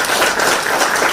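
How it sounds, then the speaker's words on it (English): Dense, loud clapping from a large student audience at a university talk in Texas, a continuous wash of hands with no speech over it. "Now you're clapping"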